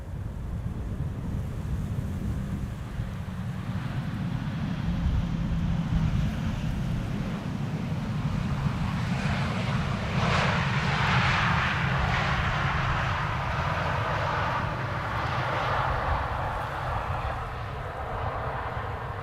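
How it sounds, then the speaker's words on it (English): A KLM Embraer jet arrives at Amsterdam Schiphol airport, its engine noise a distant, rumbling roar that swells and fades under heavy wind buffeting on the microphone. "an Embraer from KLM arriving from Aberdeen"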